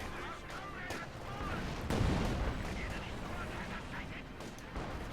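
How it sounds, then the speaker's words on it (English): SU-76 artillery barrage in the video game Company of Heroes 2, a series of booming shell impacts and blasts with one heavy hit near the middle, set against continuous battlefield din and occasional distant voices. "SC-76 is barraging somewhere."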